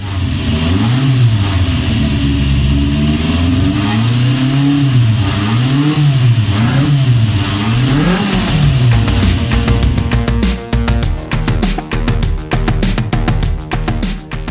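A naturally aspirated four-cylinder race car engine, revving to 8300 rpm in a car weighing only 630 kg, rises and falls in loud repeated blips, then breaks into a harsh rapid staccato of bangs near the end.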